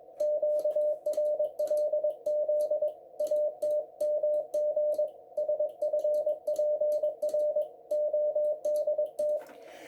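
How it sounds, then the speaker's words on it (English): An Enigma-encoded radio transmission is heard as a Morse-style tone keyed in regular short bursts, steady and fairly loud over faint static clicks, with no voices. "So that transmission through Enigma would sound like this."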